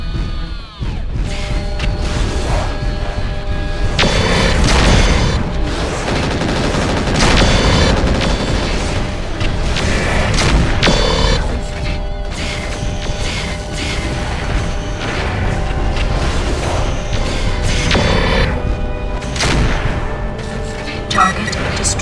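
Destroyed missile launchers blowing up in the MechWarrior 4 Vengeance mech combat game, a dense, continuous roar of booming blasts and crashing debris that stays loud throughout, with game dialogue over it.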